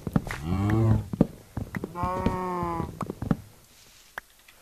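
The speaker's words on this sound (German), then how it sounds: "Jedes Mal wenn die Kühe muhen" Several drawn-out cow moos in Minecraft, close and loud, with short clicks and thumps between them and a quiet stretch at the end.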